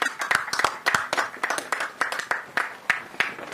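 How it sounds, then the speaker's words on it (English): Audience clapping at an outdoor ground-breaking ceremony for a hybrid renewable energy and battery project on Anegada, a steady patter of many hands close by, in uneven bursts with no talk. "Can everyone give him a round of applause for his remarks?"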